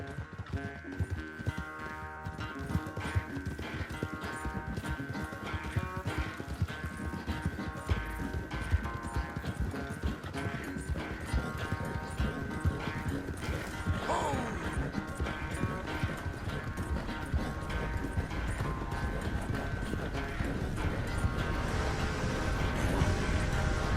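Horse hooves gallop in Red Dead Redemption 2, a steady, rapid clip-clop rhythm that stays loud and close throughout, with occasional snorts over a game soundscape.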